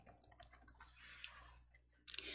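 A computer mouse clicks a few times, quietly and close, during a block coding lesson, with one sharper burst of clicks near the end and no speech.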